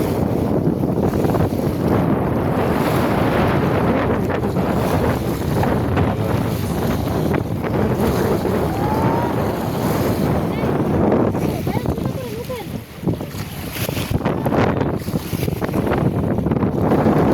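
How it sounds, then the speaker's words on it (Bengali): Waves churn on the Meghna river at night under loud, constant wind buffeting the microphone, with a boat passing and a person talking over the roar. "কি পরিমাণ নদীর ঢেউ, বাপরে বাপ।"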